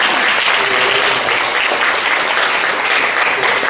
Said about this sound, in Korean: 예, 박수 하겠습니다.